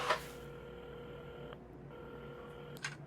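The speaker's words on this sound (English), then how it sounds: "Carmen had started dialing the phone." Phone tones sound as a telephone is dialed, with a steady electronic tone that breaks off briefly and then resumes, and a click of handling at the start and end.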